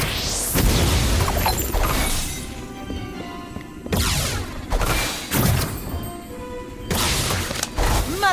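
Confringo blasting-spell explosions in the Harry Potter Magic Awakened video game come as several loud crashing bursts with shattering and booming. They recur every second or two among game effects and music.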